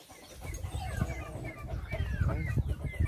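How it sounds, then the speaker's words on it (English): Farmyard chickens cluck repeatedly in short, overlapping calls at moderate distance, with a low background murmur beneath them in a rural Trinidad yard. "Yeah, fowl."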